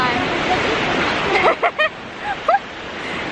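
Ocean surf washes steadily at a beach near Folkestone, Kent, a broad continuous hiss of breaking water with a few brief voice fragments rising over it midway.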